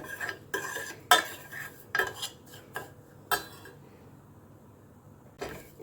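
A spoon clinks and scrapes against a pot of tarhana soup in several irregular strokes, with quiet pauses between them and no talking.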